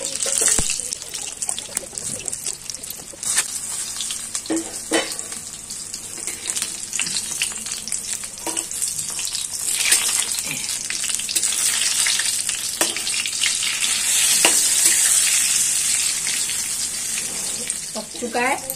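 Stuffed green chili pakoras in besan batter frying in hot oil, with a steady, close sizzle and crackle throughout, occasional bubbling bursts and a faint light clink of stirring.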